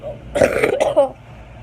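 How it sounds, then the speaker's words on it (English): A single rough cough or throat-clearing burst, close and fairly loud, lasting under a second with no talking. "I'm sorry if I'm coughing during this video."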